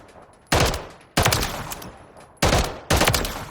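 A CAA RONI G-1 carbine-kit pistol fires full auto in Call of Duty Modern Warfare III: four loud, sharp bursts of gunfire in two quick pairs, each ringing out briefly before the next.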